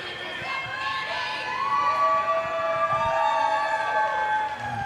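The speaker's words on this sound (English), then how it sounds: "Panty Dropper brought her own cheering section for the penalty box." A roller derby crowd cheers and shouts continuously near the penalty box, a loud, sustained wash of voices with high pitched whoops and yells rising and falling over several seconds.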